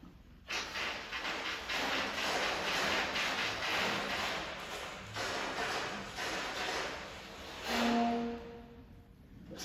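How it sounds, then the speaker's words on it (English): String instruments produce airy, breathy wind-like noise, a hissing wash of bowed air sound that swells and recedes. Near the end a faint pitched note emerges, with no voices. "it sounds a little bit like this with the wind sounds,"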